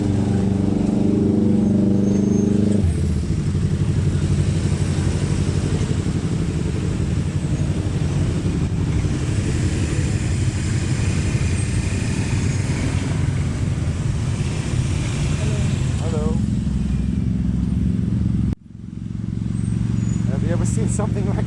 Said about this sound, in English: brace yourself for a major traffic jam in the late afternoons and early evenings